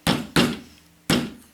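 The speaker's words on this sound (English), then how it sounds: "normally I don't have to hammer these in, they just normally slip in" Three sharp hammer strikes drive wooden knot-puzzle pieces into place, a pair of quick blows followed by a third after a pause, each loud and close with a short woody ring.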